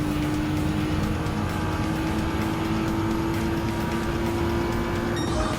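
Nissan GT-R Nismo race car engine in Gran Turismo 7 on the Interlagos circuit, a steady loud turbocharged roar holding one pitch throughout, close and continuous with no talk.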